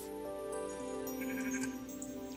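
Repeated bleating of blocky sheep inside Minecraft on the Mineplex server, several overlapping game-style bleats at moderate loudness over steady background music, with no talking.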